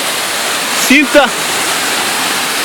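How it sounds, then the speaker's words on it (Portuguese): A waterfall near São José dos Campos, Brazil, heard as a constant broadband rushing roar close by, with a brief spoken word over it. "É isso aí, uma bela cachoeira."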